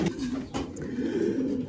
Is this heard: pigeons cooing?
yes